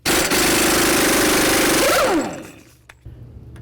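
Air impact wrench spinning off the front axle center nut on a 1992-2000 Chevy Tahoe, a loud continuous rattling whir for about two seconds, then winding down with a falling pitch to near quiet.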